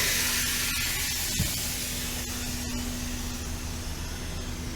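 A truck trailer's lift axle rises on air suspension with a loud, steady hiss of escaping air, broken by a brief thump partway through, with no talking.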